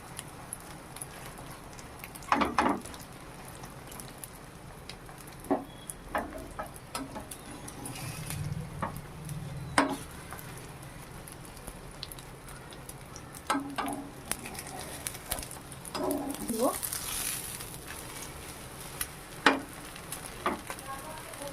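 An egg and a roti fry together in a lightly oiled pan for an egg roll, a soft steady sizzle broken by occasional taps and clinks of a utensil, with no voices.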